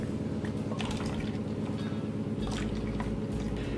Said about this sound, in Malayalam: ഇനി അതിലെ തേങ്ങ പാലിനെ നമ്മൾ കളക്ട് ചെയ്യണം.